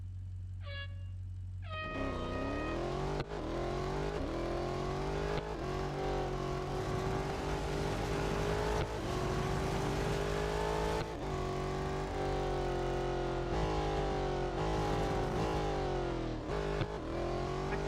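A Jaguar race car engine in the racing game Real Racing 3 revs hard and continuously, rising in pitch and dropping back at repeated gear shifts.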